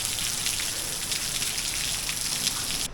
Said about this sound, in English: We're going to wait until the rain eases a little bit before we venture out there.